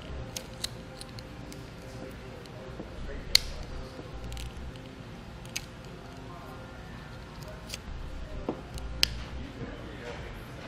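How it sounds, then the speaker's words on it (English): Scissors snip vacuum hose from a brake-system install kit into three short lengths for a T-fitting, a few sharp clipped cuts spaced apart over a steady low background. "We'll now take the vacuum hose that comes in our kit. We're going to cut three small pieces."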